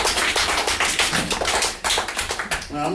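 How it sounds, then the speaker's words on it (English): Classroom students giving a classmate a round of applause, heard as lively, close, overlapping clapping from a small group that runs steadily for about three seconds, with a faint voice near the end. "All right, let's give her a round of applause."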